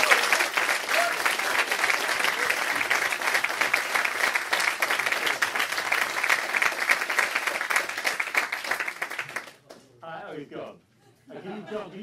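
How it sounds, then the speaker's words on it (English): Loud sustained audience applause follows a presentation, steady clapping from a large crowd for about nine seconds before it cuts off and a voice speaks. "It was round of applause."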